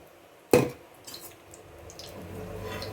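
Oil hitting a hot tawa pan for a fish omelette: one sharp sizzling burst, then a softer, steady crackle and hiss that builds gently, with no talking.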